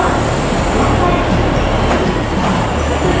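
A local diesel train on the Kansai Main Line rumbles past close by, a loud, steady roar of wheels and motors filling the whole stretch.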